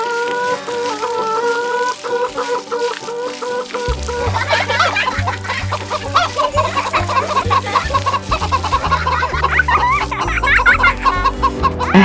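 A hen clucks repeatedly over a bouncy children's farm-animal song, with a quiet musical intro before a steady run of close, rhythmic clucks and cackles riding on top of the tune.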